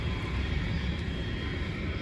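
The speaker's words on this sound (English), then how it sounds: "I think there's a plane leaving now." An airplane taking off from a nearby airport rumbles as a steady, low, distant roar that holds evenly throughout, heard outdoors behind a store's dumpsters with no talking.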